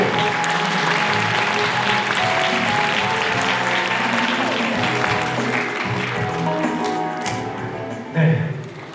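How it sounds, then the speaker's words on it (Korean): An indoor audience at a unification rally opening ceremony applauds to welcome co-chair Ahn Chan-il, a sustained dense clapping that holds for several seconds and then fades, with a brief thump near the end. "안찬일 상임의장님 나오실 때 큰 박수로 환영해 주십시오"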